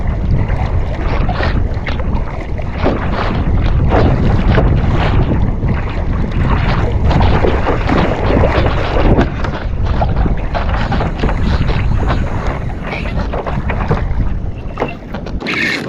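Kayak paddled offshore off the Gold Coast while trolling dead baits for mackerel, with continuous water rush, splashing strokes and heavy wind buffeting on the microphone, loud and steady throughout.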